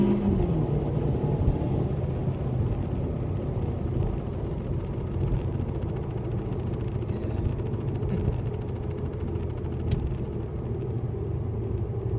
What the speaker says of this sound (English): A little 0 to 60 run here.